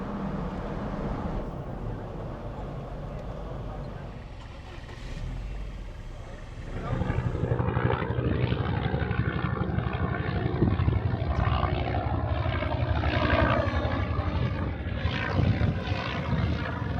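A United Nations UNIFIL helicopter flying low through valleys near Houla, a loud continuous rotor and engine roar that swells and stays close, with voices faintly heard underneath.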